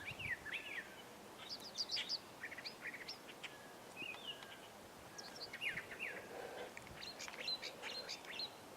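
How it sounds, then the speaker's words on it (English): Faint, distant birdsong with a varied series of quick chirps and trills over a soft outdoor hiss, no voices. "Every time this bird chirps, it sings a different song."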